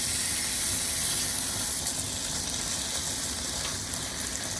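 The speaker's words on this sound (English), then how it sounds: "Then, add the ginger and pork to the pan. Spread the pork over the pan to evenly brown the meat." Ginger and pork browning in a pan, a loud, close, continuous hissing sizzle that stays steady throughout with no voices.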